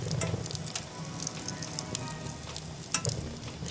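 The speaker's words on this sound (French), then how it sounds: "Est-ce que c'est pas trop bien un feu de cheminée en hiver?" A wood fire crackles in a home fireplace in winter, with soft irregular pops and snaps over a low, quiet background, heard close and alone.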